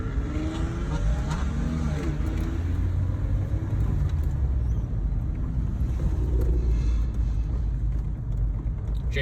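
Cars idling and rumbling at an evening car meet with lights around, a steady low engine drone with wind buffeting the microphone and no clear revs standing out.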